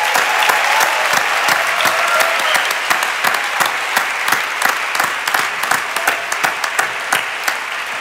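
An audience bursts into dense, sustained applause, many hands clapping steadily and close at hand for the whole stretch, with no talking over it.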